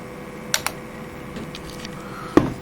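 A vintage IBM Aptiva computer keyboard on a PC's PS/2 port gives a few sparse, isolated keystrokes. There is a pair of close clicks, then a pause, then one firmer press near the end, all over a faint background hum.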